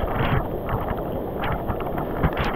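Strong wind buffets outdoors during a rainstorm, rumbling and gusting in uneven surges that press close and loud against the microphone, with no talking.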